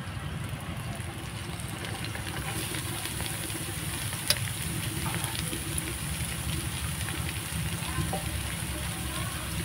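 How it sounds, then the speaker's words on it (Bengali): Grated cauliflower frying in oil with ginger and green chili, a constant low sizzle and crackle with faint stirring and one sharp clink partway through. "আদা আর কাঁচা লঙ্কাটা হালকা ভেজে নিয়েছি, এবার গ্রেট করা ফুলকপিগুলো দিয়ে দিব।"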